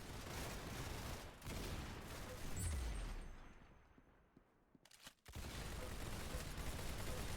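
Pistol shots in a video game, a dense run of loud rapid gunfire that drops off midway, goes quiet briefly, then returns at full intensity.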